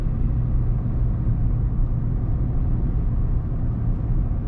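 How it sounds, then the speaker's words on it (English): A 2022 Ford F-150 Tremor rolls along on big off-road tires, a steady, subdued low rumble of road and engine noise filling the cabin without a break, with no talking. "it's a very quiet, smooth ride, even on these big off-road tires"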